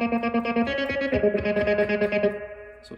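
Electric guitar strums a four-six chord with effects, rhythmic chopped strokes ringing through distortion and chorus before the last notes fade out, played alone without voices.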